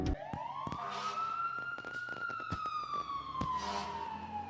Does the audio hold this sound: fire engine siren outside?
yes